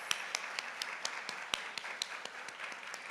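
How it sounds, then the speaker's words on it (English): An audience at a Kente stole ceremony claps steadily. The sound is a moderate, even wash of applause with a few sharper individual claps standing out. "Let's give them a round of applause."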